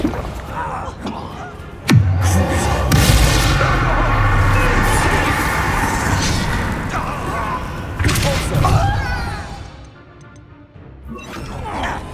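Bombarda explosion spell in the Hogwarts Legacy video game on PS5: a sudden loud blast near the start, followed by sustained rumbling battle noise and later crashes, with voices speaking.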